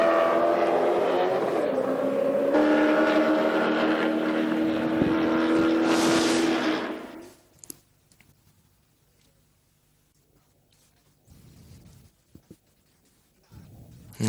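Chevrolet Lumina V8 race cars competing at a championship round in Bahrain, a loud engine roar that rises in pitch as the cars pass, then fades quickly into distant quieter track noise.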